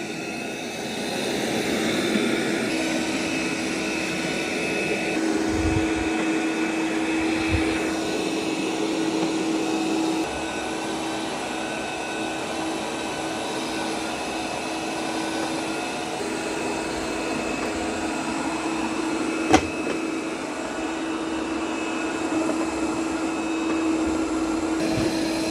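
A Roomba robot vacuum's steady, droning motor runs continuously with a broad whooshing hum and faint tonal whine, occasional soft bumps, no voices.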